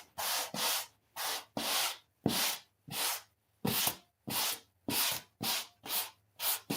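Sandpaper rasps back and forth in a steady rhythm of about a dozen short, even strokes, close up, with brief pauses between passes and no voices.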